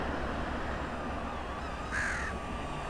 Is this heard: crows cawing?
yes